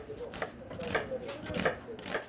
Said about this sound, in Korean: 칼질이 예사롭지 않다.